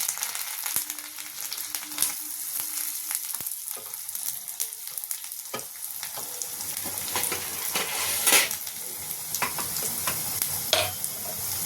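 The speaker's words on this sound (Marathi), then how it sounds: "आता व्यवस्थित तेल गरम झालं की याच्यामध्ये आपल्याला टाकायचे आहे गार्लिक." Garlic frying in hot oil in a pan, a close continuous sizzle broken by occasional scrapes and clinks of stirring, with no one speaking.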